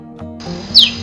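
A single bright, high-pitched bird chirp rings out near the end, over a low steady hum.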